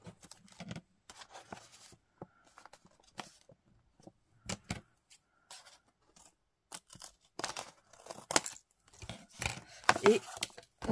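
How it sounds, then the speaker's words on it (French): Scissors trimming excess material from a transparent plastic gift pouch, a close series of crisp snips and rustling crinkles in irregular bursts separated by quiet pauses, with no speech. "on va venir couper"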